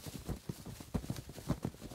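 Hooves clip-clop in a steady, fairly close walking rhythm, a horse carrying a rider at an even pace with no voices over it.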